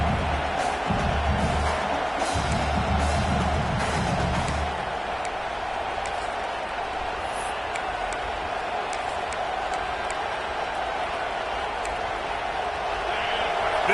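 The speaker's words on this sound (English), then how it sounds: "This crowd going to try to make life miserable for these guys" A large stadium crowd at a Michigan football game against Purdue roars steadily throughout, a dense sustained wall of noise with louder swells early on, heard from within the stands.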